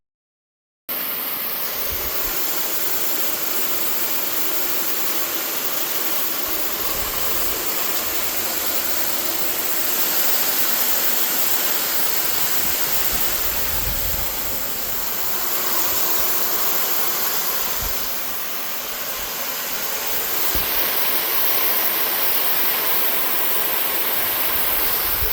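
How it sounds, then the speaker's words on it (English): Water jets spray from small holes in a custom wash rack beneath a Cub Cadet Ultima ZT1 50-inch mower deck, making a loud, steady rushing hiss that continues for over twenty seconds with slight swells. "some small holes in it, create some little jets"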